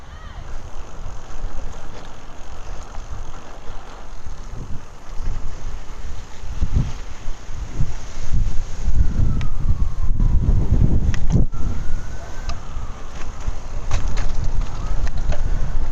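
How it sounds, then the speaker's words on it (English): Strong wind buffets the microphone in loud, rumbling gusts, swelling and easing continuously, with faint talk partly buried underneath. "It is very windy today, as you can probably hear in the video"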